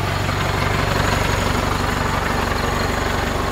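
An IHC 844-S tractor with its original exhaust refitted idles close by, a loud, steady low diesel throb with an even rhythmic pulse and no speech.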